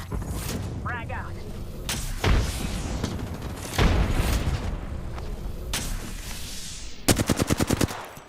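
Video game gunfire crackles in several bursts, with a fast rapid-fire string near the end, under heavy thuds and booms and a voice speaking over the action.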